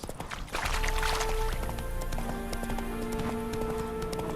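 Horse hooves clip-clop steadily at a walking pace in The Witcher 3 video game, accompanied by game music tones and faint background ambience.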